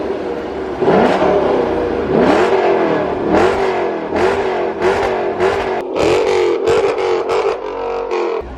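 A Dodge Challenger with a Borla ATAK cat-back exhaust revs up again and again, nearby and loud, in a string of rising and falling pulls, some closely spaced blips near the end. No voices.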